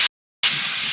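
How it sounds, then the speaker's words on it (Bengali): Potatoes being lightly fried in a pan in a home kitchen, a steady close sizzling hiss after a brief silent gap, with no talking. "আলুটাকে একটু হালকা ভেজে নিচ্ছি।"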